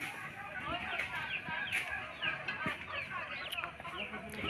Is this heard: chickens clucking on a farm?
yes